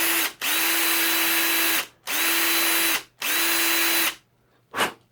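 A power drill bores into a Hot Wheels diecast car in three long, steady whirring runs separated by short pauses, then gives one brief final burst, close and fairly loud with no talking.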